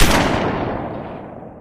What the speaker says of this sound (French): Il tire avec son fusil canon à scier